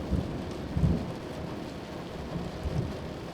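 Steady rain falls with a constant hiss while low thunder rumbles through in a few deep swells.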